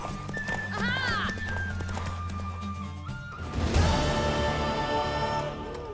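In The Witcher 3: Wild Hunt, a horse whinnies and neighs over galloping hooves and a musical backdrop, followed by a louder burst of action sounds.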